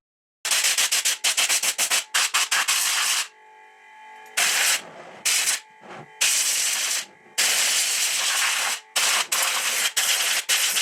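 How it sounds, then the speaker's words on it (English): A compressed air blower clears oil, grease and metal particles off a workshop model in loud, close, hissing bursts of varying length separated by short pauses, with a faint hum in the gaps and no talking. "This is so useful for blowing away oil, grease and metal particles from models,"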